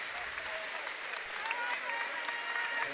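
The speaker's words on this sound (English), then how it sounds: "As they bring in the rest of their substitutes and everybody claps for their team." A crowd in a gym claps for their team during a 7th grade boys basketball game, a steady wash of applause lasting throughout at moderate distance, with a commentator's voice faintly underneath.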